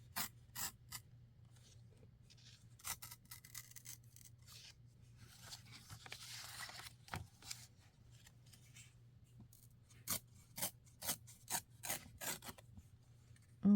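Scissors snipping through glossy magazine paper to cut out an advertisement, a series of short crisp rasping cuts, some in quick bursts, close up over a low steady hum, with no talking.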